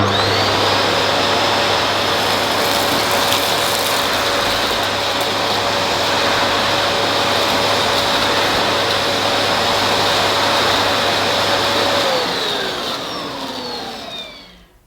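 A Dyson DC26 City vacuum cleaner runs steadily and loudly with a constant high whine for about twelve seconds, then winds down as the motor switches off near the end.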